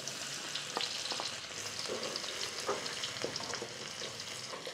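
Garlic fries in hot oil with a dense, steady sizzle and occasional stirring clatter, all close by, with no voices.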